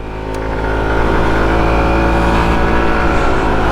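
A Triumph ST200 motorcycle engine, pulling away hard from an intersection: a loud, steady, close engine roar that builds over the first second, then holds strong and even.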